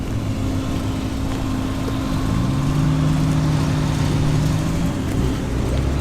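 A Triumph TR5 with a fuel-injected 2.5 litre engine runs at a classic car show, a steady close engine drone with a rising tone midway, alone without talk.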